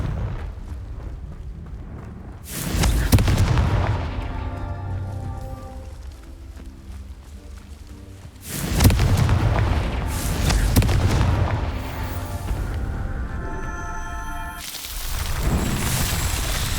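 Confringo spell explosions in the Hogwarts Legacy video game, three heavy booming blasts spaced several seconds apart, each with a long rumbling, debris-like decay and no voices.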